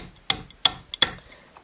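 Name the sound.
improvised tool striking a hole punch into a leather kendo kote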